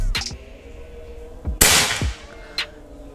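A single sharp shot from a Krypton Falcon PCP air rifle firing Hercules pellets cracks loudly, framed by a few lighter mechanical clicks before and after, close by.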